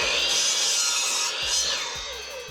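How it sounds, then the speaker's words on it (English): A miter saw powered by an Inergy Flex solar generator cuts through wood, a loud continuous high whine and rasp with the blade biting in, pitch sagging under load and easing near the end. "A miter saw,"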